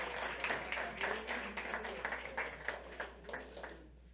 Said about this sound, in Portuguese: Agora aplaude o Vini.